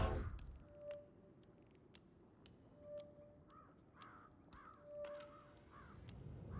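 Crows caw inside the video game Hitman 3, a series of harsh calls spaced a few seconds apart over a quiet background, mixed with sharp clicks and ticks.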